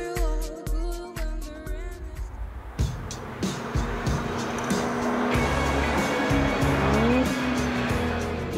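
An Aston Martin DBS Superleggera with a twin-turbo V12 engine, a loud sustained engine roar building in pitch after a short burst of revs, with tire squeal and a hard-driving race character.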